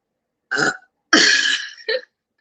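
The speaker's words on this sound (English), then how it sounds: "I gotta burp again. This time I'm warning y'all." A woman burps three times in a row: a short burp, a longer drawn-out one, then a brief final one, loud and close with silence between.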